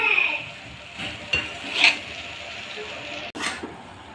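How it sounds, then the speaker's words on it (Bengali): Cooked rice being stirred and folded into spice masala for a home-style egg biryani, with soft scraping and a few light clinks of utensil on pan, close and fairly quiet. "সমস্ত ভাতটা ভালো করে মশলার সঙ্গে মাখিয়ে নেব।"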